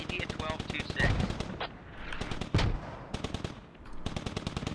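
Rapid bursts of automatic gunfire in a military shooter game ring out in repeated sharp volleys, with a couple of heavier booms mixed in and brief gaps between strings of shots.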